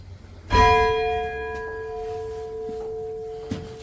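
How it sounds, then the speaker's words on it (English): A single strike on a bell in a nearly 500-year-old church tower, St Augustine's Tower in Hackney, rings out clear and close, then hums down through a long fading ring with a faint second tap near the end. "also a bell that you can ring apparently"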